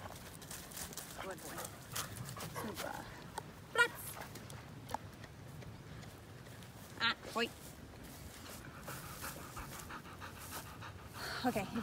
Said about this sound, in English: So you see him, he's panting.